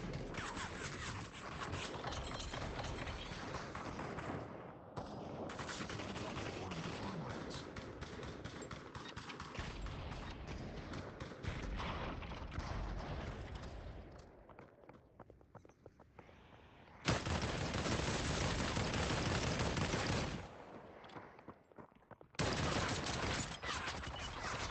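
Rapid gunfire bursts in a video game, dense sustained volleys that drop off briefly in the middle and then return loud in stretches.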